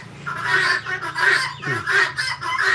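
Backyard chickens in a coop cluck repeatedly in a steady rhythm, close and loud, with a brief rising call in the middle and no talk.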